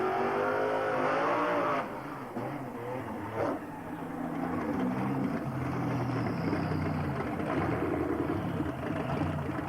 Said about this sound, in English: The fastest street legal car in South Africa at the present moment.